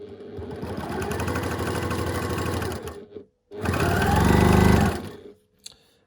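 A sewing machine stitches quilt block seams in two loud, close bursts of rapid whirring, with a short pause between them and a faint click at the end.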